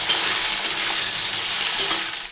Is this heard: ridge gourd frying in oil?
yes